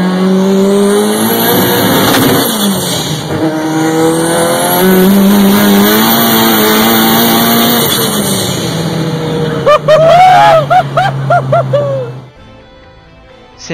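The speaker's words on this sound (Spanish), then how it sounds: "Escuchá cómo acelera." A car engine revving and accelerating hard, loud rising and falling engine whine with tire squeal, then a burst of sharp revs before cutting off near the end.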